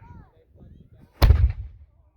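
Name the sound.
cannon being fired at a pirate display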